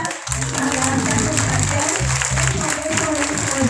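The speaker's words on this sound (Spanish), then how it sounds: "se renuevan los aplausos para Cecilia Ábalos" Sustained applause from a live audience after a stand-up comedy set by Cecilia Ábalos at the San Martín, steady and full throughout with crowd noise and no break.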